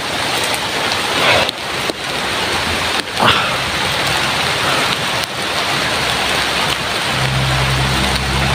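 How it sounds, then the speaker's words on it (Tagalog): Heavy rain pouring steadily and loudly outdoors, a dense unbroken hiss with a few brief louder gusts or bumps, and a low hum entering near the end. "malakas ang ulan"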